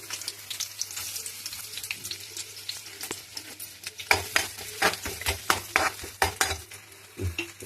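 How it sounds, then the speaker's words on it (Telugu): Onions frying in oil for semiya upma crackle and sizzle close by, and a spatula stirs and scrapes the pan. The stirring grows louder and more rhythmic partway through, with no talk. "ఉల్లిపాయలు వేస్తున్నాను చూడండి"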